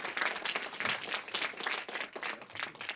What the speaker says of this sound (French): donc on peut l'applaudir s'il vous plaît